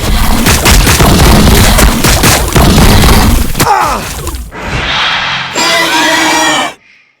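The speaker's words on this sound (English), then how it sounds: "Tyranids warriors shoot also. They're shooting back!" Tyranid warriors fire in Warhammer 40K Battlesector, giving loud layered blasts and booms with crowd-like shrieks, then a short hum-filled lull before the sound stops abruptly.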